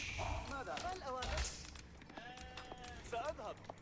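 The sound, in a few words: sheep bleating in a video game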